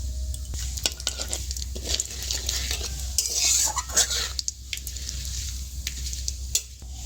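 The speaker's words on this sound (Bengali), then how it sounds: "ডিম ভাজা তেলের মধ্যে দিয়ে দেবো একটা তেজপাতা আর একটু গরম মশলা, গোটা গরম মশলা" Steady sizzling of whole spices, including a bay leaf, frying in hot oil, with occasional sharper crackles and pops and a faint clink of a utensil, no voices.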